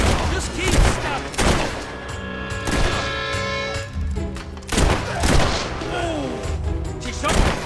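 Gunfire rings out in the Fable 3 video game, several loud bursts and booms scattered amid combat clatter, with a voice talking over the action.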